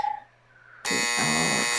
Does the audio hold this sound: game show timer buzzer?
yes